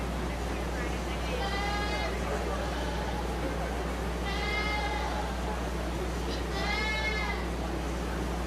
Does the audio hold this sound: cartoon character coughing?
no